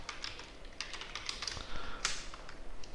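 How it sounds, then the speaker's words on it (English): Rapid clattering keystrokes on a computer keyboard with a faulty, problematic feel, close and fairly loud, in a steady irregular patter with no talking. "My keyboard is little problematic, please don't mind."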